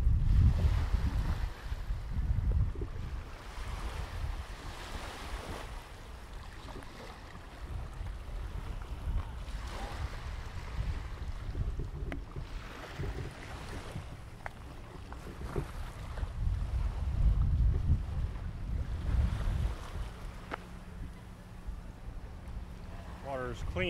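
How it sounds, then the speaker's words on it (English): Harbour water at a yacht club in Pointe-a-Pitre, Guadeloupe, laps and surges continuously while wind buffets the microphone, with the swell rising and falling in loudness. "this is a yacht club."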